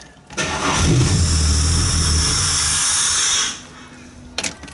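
A Holden Commodore VX 3800 V6 cranks and catches with a turn of the key, roaring up loudly for about three seconds before settling to a quieter idle, with a brief clatter near the end.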